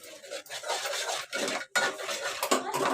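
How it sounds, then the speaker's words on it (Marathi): Boiled-egg curry gravy is stirred and sautéed in a pan: repeated close scraping and rubbing strokes of a spatula against the pan bottom, broken by brief pauses, with no speech. "आता परतून घ्यायचं बघा हे परतून घ्यायचं"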